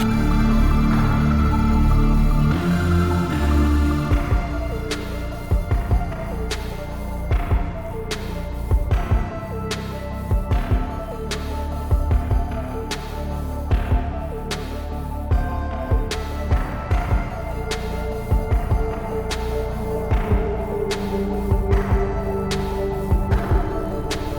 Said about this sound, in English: Heartbeat's loud.